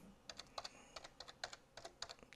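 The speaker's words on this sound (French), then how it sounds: "Tu appuies sur la touche entrée de ton clavier" Quiet, quick tapping of keys on a computer keyboard, a steady burst of typing at a Windows command prompt heard up close with no voices.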